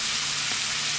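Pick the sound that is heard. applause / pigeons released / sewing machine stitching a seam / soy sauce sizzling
soy sauce sizzling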